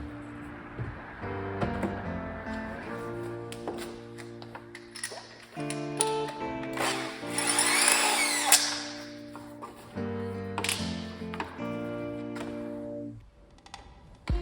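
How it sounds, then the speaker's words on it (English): A drill bores out a shifter part inside a Ford Mustang interior, its motor whining and shifting pitch in uneven spurts, with scraping and tapping between bursts. "And now we're gonna be drilling this out."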